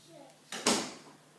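A door thuds shut indoors, a soft knock followed by a louder slam that fades out. Faint voices murmur beforehand.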